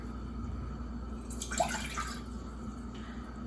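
A short splash of water poured into a pan on a stove at medium-high heat, for making humbug sweets, brief and close, over a quiet steady background hum.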